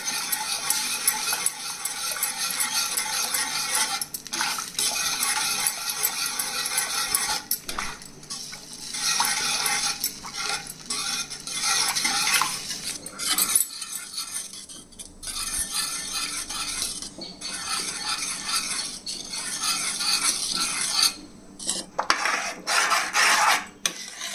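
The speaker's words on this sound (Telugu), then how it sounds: "కొద్దిసేపు ఉడుకుపట్టే వరకు ఇలా కలుపుతూ ఉండాలి" A whisk or spoon stirs thickening sorghum rava batter in a pot, making a continuous close, gritty scraping and swishing against the pot bottom with a steady rhythm throughout.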